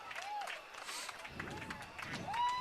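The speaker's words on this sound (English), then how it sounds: "as the clock keeps on winding down and the Lower Dauphin crowd celebrates" A Lower Dauphin high school football crowd at a night game against Northern cheers and claps faintly in the distance, with a whistle sounding and an announcer talking over it.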